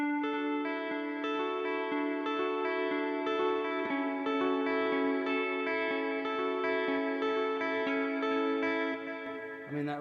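Sustained electric guitar chords ring out with a washy, lingering reverb tail, notes blending into a shimmering wash that fades slightly at the end.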